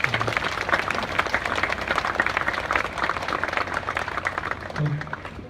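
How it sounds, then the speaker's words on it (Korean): A crowd at a provincial governor's public event claps steadily for several seconds, a dense patter of applause at moderate volume. "박수 한번 부탁드리겠습니다"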